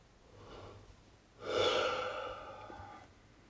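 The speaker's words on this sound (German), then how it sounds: "Nun noch ein anständiger Gähner." A person gives an exaggerated big yawn during a choir warm-up, with a soft breath first and then a loud, open-mouthed drawn-out yawn that fades gradually.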